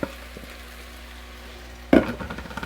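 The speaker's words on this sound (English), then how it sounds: "put the mushroom and the onions in here as well, all together." Mushrooms and onions go into a pan for an easy mushroom soup, giving a quiet low hum that breaks into a sudden sharp sizzle and short scrape near the end, close by.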